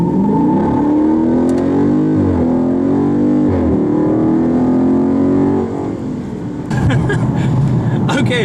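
A Dodge Charger Scat Pack launches from 0 to 60 mph on Nitto 555 G2 tires, its loud engine rising in pitch through the gears with brief shift dips before easing off near the end.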